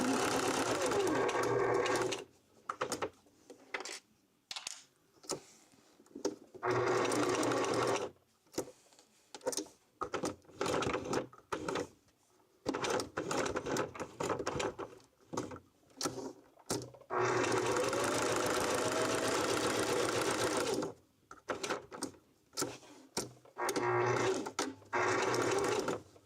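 A sewing machine stitches rope coasters in repeated close bursts of whirring motor and needle chatter, separated by short silent pauses as the work is repositioned.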